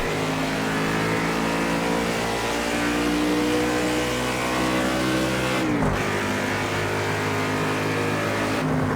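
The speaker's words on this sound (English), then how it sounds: "you hear the old shifting sounds from Project Cars 2" A loud racing car engine in the video game Project Cars 2 drones steadily at high revs, with a quick drop in pitch as the gear shifts partway through, then pulls on.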